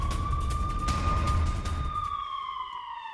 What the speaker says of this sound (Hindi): अमृतसर में लगातार सायरन बजाए जा रहे हैं